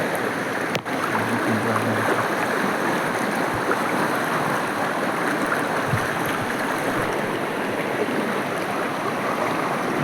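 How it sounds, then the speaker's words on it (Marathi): Continuous rushing river water flows steadily, a broad even wash with no voices over it. "नदी पार करून तिकडे जाते पाणी लय नदीला"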